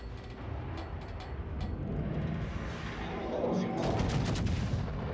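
Broadside gunfire from a ship in a naval video game, a run of booming shots rolling together, building louder toward the end, with a voice talking faintly underneath.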